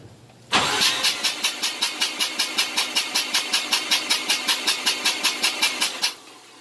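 Mazda RX-7 FC rotary engine cranking over on the starter during a compression test, loud and close, with a steady rhythmic train of about two dozen even pulses lasting roughly five and a half seconds before stopping abruptly.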